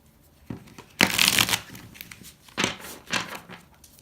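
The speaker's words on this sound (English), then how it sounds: "I have my Ludy Lescot deck, so let's get started. I'm going to give them a shuffle." A Ludy Lescot tarot deck is shuffled by hand in a quiet room, several close, crisp riffling bursts with short pauses between them.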